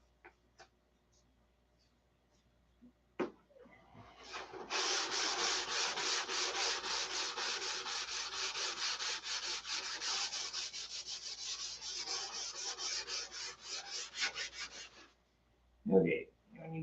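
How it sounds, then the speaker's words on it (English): Hand sanding with fine 320-grit sandpaper: steady, close rasping strokes run for about ten seconds after a couple of isolated knocks, then stop before a short burst of voice at the end. "I need to sand that with 320, so I'm not grinding on it forever"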